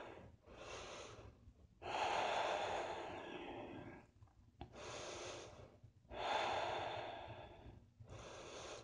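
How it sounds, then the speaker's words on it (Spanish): Ujjayi victorious breathing during a vinyasa yoga session: slow, deep, audible breaths with a throaty hiss, about four long inhale and exhale cycles separated by brief pauses, close and alone. "usando tu respiración victoriosa, tu respiración Ujjayi"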